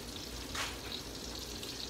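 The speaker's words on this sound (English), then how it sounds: "We put it in the grease and let it kind of caramelize on each side." Meat caramelizing in hot grease in a home kitchen, a steady close sizzle and crackle of frying that holds evenly throughout with no voices.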